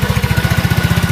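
A scooter engine with a newly fitted oil cooler idles close by with a fast, even putter, loud and alone.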